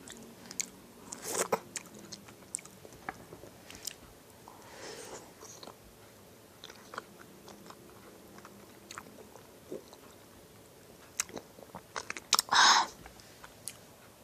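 Close-up bites and wet chewing of fresh strawberries, heard as scattered soft crunches and mouth sounds with a sharper, louder bite near the end and no talking.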